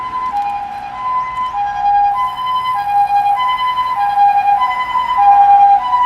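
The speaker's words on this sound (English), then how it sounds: "Oh, ambulance is coming." An emergency vehicle's siren passes along a Tokyo street, a loud, close, steady wailing tone that keeps cycling and swells slightly as it nears, alone with no talking.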